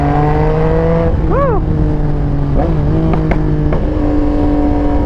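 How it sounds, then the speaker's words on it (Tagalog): A 2022 Yamaha Tracer 9 GT inline-triple engine idling loudly up close, with a sharp throttle blip whose pitch swoops up and down, followed by a few sharp cracks and pops before settling back to a steady idle. "grabe lakas ang backfire nun"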